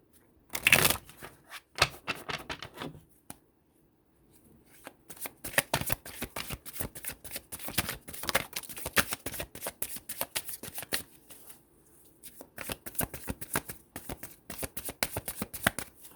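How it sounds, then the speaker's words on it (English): Tarot cards shuffled and drawn in bursts of rapid riffling and flicking, near and crisp, with brief pauses between handfuls and no talking. "I'm going to go ahead and pull a couple of cards from each and just see exactly what's going on with the collective."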